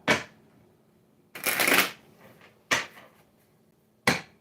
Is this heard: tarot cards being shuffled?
yes